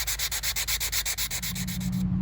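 Fine grit sandpaper is rubbed by hand along a steel knife blade clamped in a vise: about a dozen quick, even back-and-forth scraping strokes, close and crisp, ending in a softer shuffle.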